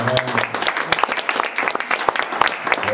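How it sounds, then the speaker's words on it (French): A church congregation applauding during a service, scattered irregular hand claps close by mixed with voices and some sustained singing or tones, lively and uneven rather than a uniform roar. "Acclamons pour la parole."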